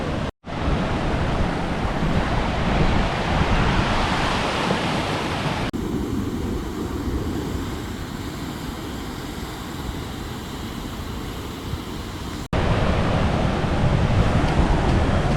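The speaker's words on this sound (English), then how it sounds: "So there's a waterfall right down here." A waterfall along a trail in the Northwest Territories roars as a continuous, broadband rush of falling water, close and steady, with wind buffeting the microphone and brief dips in level as the recording shifts.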